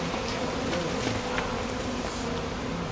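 Honeybees buzz densely and steadily around an opened hive comb full of brood, a close, continuous drone with no voices.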